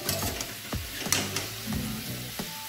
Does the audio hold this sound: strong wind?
no